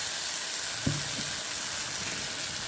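Mustard seeds and dried chillies sizzle in hot oil with a steady, close hiss. A few soft pops and crackles rise briefly above it.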